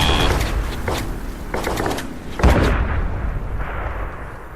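Video game machine-gun fire comes in several bursts of heavy rapid shots, loud and close, with a louder boom partway through and quieter rumble trailing off.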